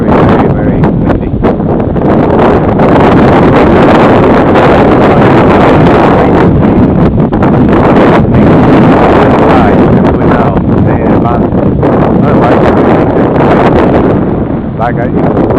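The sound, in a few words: strong wind noise during quadcopter flight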